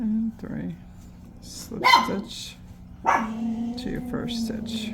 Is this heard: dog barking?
yes